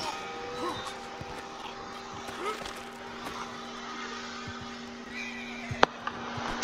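A horse whinnies and snorts in the video game Red Dead Redemption 2, amid light background ambience, followed by a few sharp clicks near the end.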